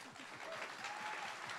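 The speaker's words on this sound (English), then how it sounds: "So if you could please give her a round of applause." A conference audience at a company talk claps steadily. The applause is faint and sounds distant.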